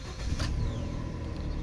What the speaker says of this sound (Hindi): अभी देखिए गाड़ी का इंजन मैंने स्टार्ट किया